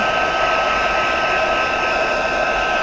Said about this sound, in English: So now every time I look at the hairdryer, it's a heat gun